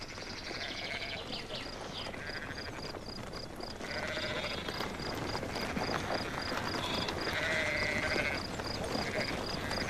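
Sheep bleat several times over a dense, steady outdoor background with birdsong, the calls moderately distant and repeated through the scene.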